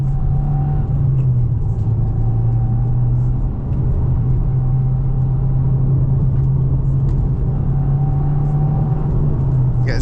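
A 2025 Subaru WRX tS Spec B with a manual gearbox pulls hard in third gear out of a corner, its engine a steady loud droning rumble with a rising tone under constant cabin road noise.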